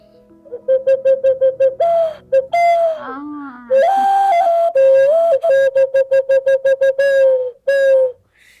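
An ancient whistle instrument imitates birdsong, sounding bursts of rapid, chirping toots and sliding warbles that rise and fall, clear and close with short pauses between phrases.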